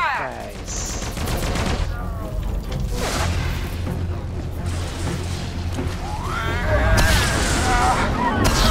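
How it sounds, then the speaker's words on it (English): Turret cannon fire in the Star Wars Battlefront game during a Yavin 4 battle, with dense blaster bursts, booms and laser whooshes over continuous battle noise, and a voice speaking over it. "Opening fire."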